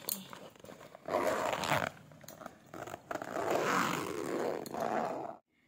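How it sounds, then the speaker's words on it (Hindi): A zipper closes a packed hospital bag in two long rasping pulls, close and moderately loud, with short pauses and faint handling sounds between them. "तो अभी इसको ज़िप कर देते हैं"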